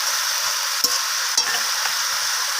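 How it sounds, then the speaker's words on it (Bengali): Fenugreek greens being stirred and fried in a pan, with a steady hiss of frying under a few soft scraping stir strokes, close and fairly loud, no talking. "যেভাবে ভাজতে হয় সেভাবে একটু সময় নিয়ে এইভাবে নাড়াচাড়া করে ভেজে নিতে হবে"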